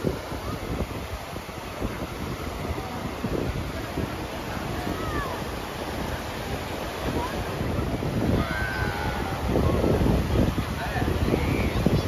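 Surf and wind at Sandbanks beach, a steady wash of breaking waves with wind buffeting the microphone, growing a little louder toward the end, while children's voices chatter over it.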